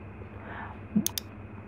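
A computer mouse button gives a quick double-click, two sharp close clicks a fraction of a second apart, after a moment of quiet room tone.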